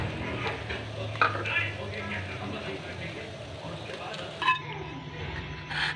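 Chicken lightly frying in oil in a pan while it is stirred gives a soft sizzle under scraping and occasional utensil clinks, fairly quiet and close.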